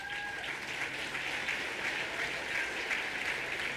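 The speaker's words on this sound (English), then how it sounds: "Give them a round of applause." An audience at a conference applauds steadily for standing members of sponsoring organizations, a dense, even wash of clapping that holds at one level throughout with no voices over it.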